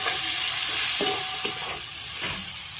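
Eggplant pieces frying in hot oil in a pan for a small-fish curry, a steady loud sizzle with several scraping stirs of a spatula, close up and with no talk.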